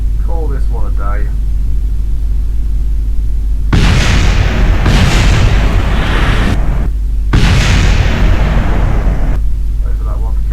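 A rocket explosion in the video game Kerbal Space Program produces loud bursts of broadband rumbling noise in several long blasts, with brief talk at the start and end.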